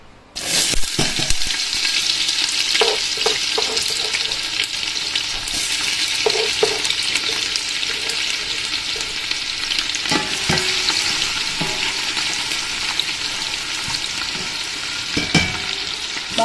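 Onions sautéing in a pan as the base for a Filipino chicken soup (sopas), a steady bright sizzle running throughout with occasional clinks of a utensil against the pan, no talking.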